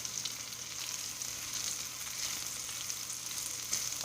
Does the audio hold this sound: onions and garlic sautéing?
yes